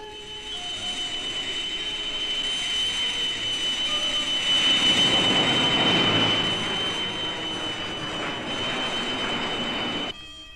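A jet aircraft engine gives a loud, steady roar with a high whine, building in intensity toward the middle and then holding before cutting off abruptly.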